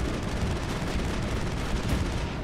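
Dense, sustained gunfire and explosive blasts from combat in the video game Mass Effect, continuous and loud throughout with no pauses.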